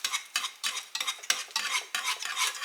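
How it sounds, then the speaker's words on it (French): A spoon stirs béchamel sauce seasoned with salt, pepper and nutmeg in a pan, giving a steady run of rhythmic scraping strokes, close and fairly quiet, with no voices. "Et on va mélanger tout ça."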